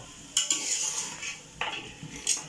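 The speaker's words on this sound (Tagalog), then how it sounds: "habang ginigisa natin ito guys, hintay tayo ng mga 3 minutes guys para yung alat absorbin ng karne" Duck meat for tinola being sautéed and stirred in a pan, with several sharp spoon-against-pan scrapes and clinks over a soft background hiss, close and moderately loud.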